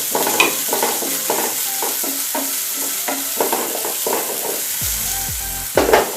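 Dhania stems and capsicum sizzle and fry in a pan, with repeated stirring scrapes and clatters over a steady hiss, close and fairly loud, ending with a sharper burst of sizzle.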